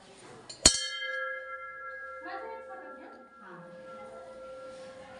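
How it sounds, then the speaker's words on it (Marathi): A temple bell struck once, close and loud, its bright metallic ring sustaining and slowly fading for several seconds while people talk quietly beneath it. "घंटी."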